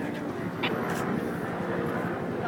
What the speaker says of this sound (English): One helicopter to the left of us.